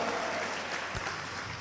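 Loud audience clapping at a Telugu Christian worship gathering, a dense continuous wash of hands heard briefly.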